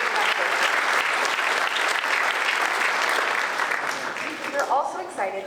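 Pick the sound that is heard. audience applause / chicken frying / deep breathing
audience applause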